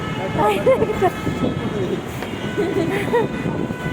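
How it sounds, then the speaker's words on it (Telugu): A metro train at a station rumbles steadily close by, with a low continuous roar and faint tonal whine throughout while people talk over it. "ఫైనల్లీ అయితే ట్రైన్ అయితే వచ్చేసింది డోర్స్ ఇలా ఓపెన్ అయ్యాయి"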